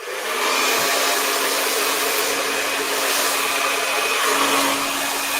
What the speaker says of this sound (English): I'm going to try and hold the dryer in a way so that you can actually see that.